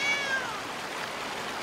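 A cat meows in the video game Blacktail, one short rising meow followed by a second, fairly faint over a soft ambient wash with no voices.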